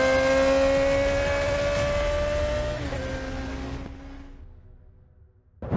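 A blue Yamaha F1ZR motorcycle engine is held at a loud, high rev, then its pitch sinks steadily as the throttle eases off, fading into near quiet before a brief blip at the end.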